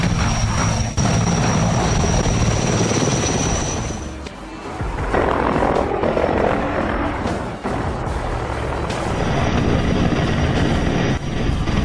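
Helicopter airlifting massive power poles, its loud, steady rotor and engine roar filling the air with a constant throbbing drone that dips briefly in the middle before surging back, with no talk.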